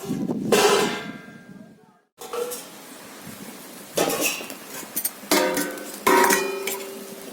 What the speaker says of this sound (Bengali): এবার আমি এর মধ্যে জল দিয়ে দিচ্ছি। ঢাকা দিয়ে দিচ্ছি।